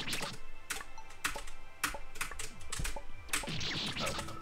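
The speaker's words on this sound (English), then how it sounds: "You can listen to my keyboard ASMR, as Waffle calls it." Rapid, uneven keyboard typing with sharp clustered keystrokes, some louder bursts, close up and continuous against light background game sound, with no talking.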